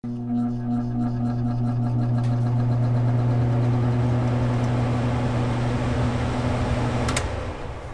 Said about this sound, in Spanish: Puentearé R y G. Y eso debería encender mi ventilador.